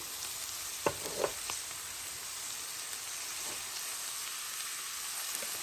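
Onion and carrots, with a little celery added, sizzle softly in a pan for a chicken pot pie, a steady faint frying hiss broken by a couple of brief stirring clinks near the start.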